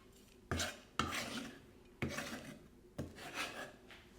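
A kitchen knife chops chili finely on a board for a lemongrass-garlic marinade, giving four close, crisp strikes spaced about a second apart, each with a short scraping tail, and no talking.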